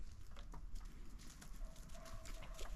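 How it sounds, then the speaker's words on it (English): A yard goat walks up on the ground outdoors, its hooves making a few faint, scattered clip-clop steps against quiet background noise. "I got old Coco, the yard goat, coming to see what I'm up to this morning"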